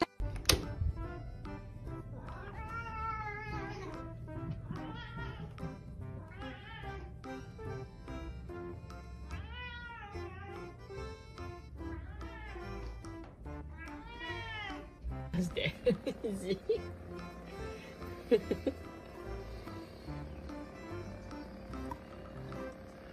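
A cat meowing repeatedly in a series of distinct drawn-out calls with varying pitch, close and clear, followed by a busier stretch with mixed sounds and a few sharper cries.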